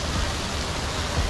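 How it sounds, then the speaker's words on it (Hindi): Broadband rushing water from a waterfall beside a resort near the Burj Khalifa, a steady close hiss with no pauses, no voices over it. "वाटरफॉल"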